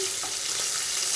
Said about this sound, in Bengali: নিয়ে আমরা এবার মাছ ভাজতে দেবো